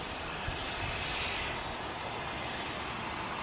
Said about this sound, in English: Okay, this is a Dreamliner.